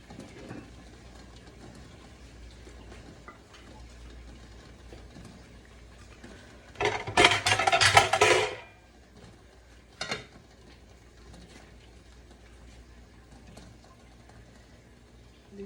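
A metal lid set onto a cooking pot holding ghaura fish in hot water: one bright, rattling clatter lasting about two seconds, then a single lighter knock, over a low steady kitchen hum.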